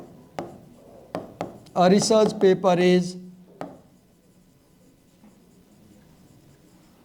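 A marker or chalk writes on a board in a few sharp taps and short strokes, close and clear, while someone speaks briefly in the middle.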